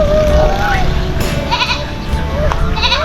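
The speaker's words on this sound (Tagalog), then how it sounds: "Yan, kambing. Kambing." A goat bleats in short wavering cries at a rural bahay kubo homestead in the Philippines, repeated a few times over a noisy, rumbling outdoor background.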